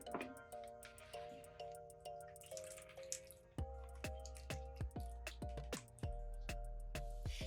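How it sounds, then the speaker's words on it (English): Water drips steadily from a freshly watered orchid, a close series of distinct drops falling at an uneven rhythm over a faint background hum. "You want to water all around the orchid."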